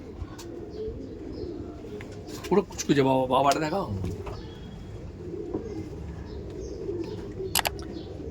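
Racing pigeons at a Kolkata racer loft give a brief burst of soft cooing, close by and mostly under people talking nearby.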